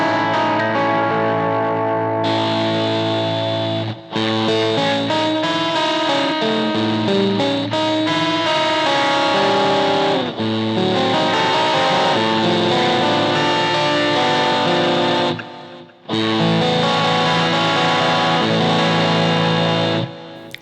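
An electric guitar runs through an Electro-Harmonix Mainframe pedal's heavily warped, ring-modulator-like metallic effect, chords ringing with clangorous, bell-like overtones and brief gaps between sustained passages.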